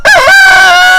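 A rooster in a mixed backyard flock of laying hens gives a single loud, close crow with a rising then sustained harmonic call, with no voices.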